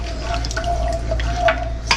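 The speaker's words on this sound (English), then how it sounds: "Sorry, I'm splashing here." Water splashes and drips as macaroni is drained into a big red pot, with a steady running stream and a few louder splatters, close by and fairly loud.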